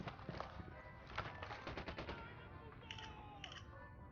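Bursts of gunfire in Ghost Recon Wildlands, rapid machine-gun rattle at moderate distance, faint and steady across the clip.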